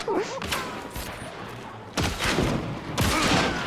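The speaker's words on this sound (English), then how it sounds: "Bomb Lance!" Bomb Lance explosions in Hunt: Showdown: two heavy, booming blasts land about a second apart, each a sudden close burst over ongoing gunfire-like crackle and background game noise.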